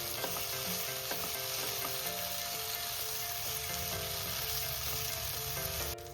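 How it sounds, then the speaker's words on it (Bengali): Spice paste is stir-fried with green peas in oil, making a steady, close sizzle with a spoon scraping and clinking through it, running continuously, with no talking. "মশলাটাকে ভালো করে একটু কষিয়ে নেবো মটরশুঁটির সাথে"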